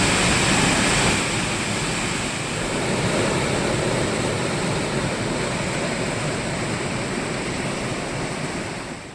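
Manimuthar waterfall near Nellai, its flow swollen by continuing rain, gives a steady, loud broadband roar of rushing water, with no voices heard.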